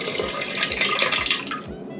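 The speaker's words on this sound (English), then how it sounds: "So now I have to flush it down the toilet" A toilet flushes leftover soup away in a quarantine hotel room, a steady rushing swirl of water with faint dripping running close and alone throughout.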